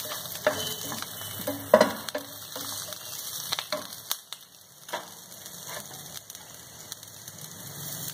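Curry leaves fry in hot oil for carom seed rice, giving a light, crackling sizzle with scattered sharp pops and spits, fairly close and fading somewhat toward the end.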